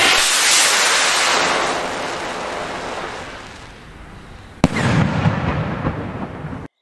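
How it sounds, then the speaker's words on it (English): Zink firework rockets bursting overhead in a dense, crackling roar that slowly thins, then a sharp loud bang followed by more rumbling crackle, heard outdoors without talk. "You will not be able to tell how amazing these Zink rockets sound if you don't see them in real life."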